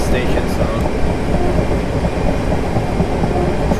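A train rolling through a simulated London route toward Clapham Junction in Train Simulator 2019, a loud steady rumble with a dense low drone and faint rail noise throughout.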